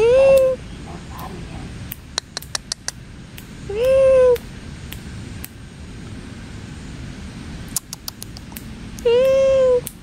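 Cat meowing indoors, three loud drawn-out meows spaced a few seconds apart, close to the microphone, with clicks and light handling noise between them.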